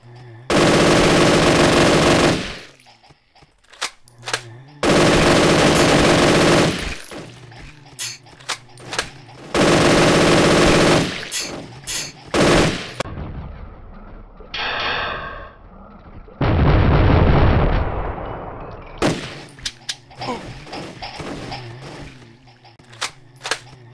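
Loud bursts of automatic gunfire from a gun in a video game, several long sustained volleys separated by short pauses and quieter game effects, with a voice speaking briefly between them.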